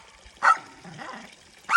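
A large, massive-headed dog on a homestead barks twice, about a second apart, loud and close, with a softer whine or grumble between the barks.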